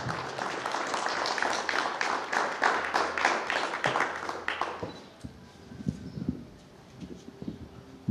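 A crowd at a classroom inauguration ceremony in Chichoy Alto claps loudly and densely for about five seconds, then trails off into scattered claps and quiet room noise.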